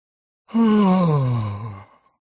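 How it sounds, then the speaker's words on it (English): A single drawn-out voiced yawn, starting high and sliding down into a low groaning exhale, close and clear against silence. "He yawned and stretched his arms"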